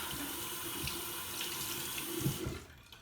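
A bathroom sink tap runs steadily while someone rinses off their face, a continuous close splashing stream that cuts off near the end.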